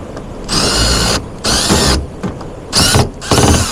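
A power drill spins out a screw from an HVAC unit in several bursts of whirring, each about half a second to a second long, separated by brief pauses, loud and close.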